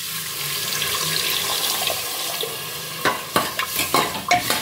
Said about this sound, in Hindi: फिर हम डालेंगे पानी।